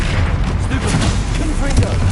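An Incendio fire spell goes off in the game Hogwarts Legacy, a loud, continuous booming roar of flame and rumble that fills the short moment, with a voice over it.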